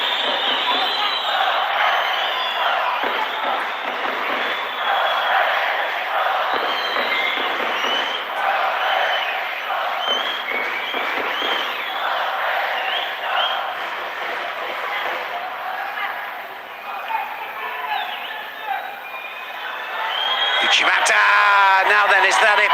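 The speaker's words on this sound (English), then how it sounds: "you hear the crowd" Arena crowd at a world judo championship roars steadily, swelling and dipping in waves, with a commentator talking over it and a final burst of noise near the end.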